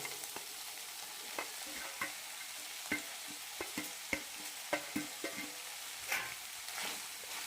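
A spoon stirs cooked rice with a teaspoon of grated coconut in a pan for potato rice, giving soft scraping scrapes and light clinks at an irregular rhythm over a faint sizzle, close and quiet, with no talk.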